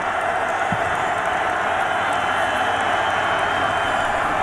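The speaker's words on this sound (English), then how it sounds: "Crowd now up and making some noise here at Folsom." Broad, steady roar of a packed college football stadium crowd at Folsom Field during Nebraska at Colorado in 2009, a continuous wash of noise with no breaks.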